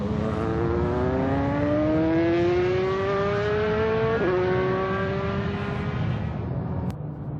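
A Nissan GTR laps the Buddh International Circuit, its engine note climbing steadily through the gears in a long sustained whine, loud and close, with a brief shift dip partway and a fading finish.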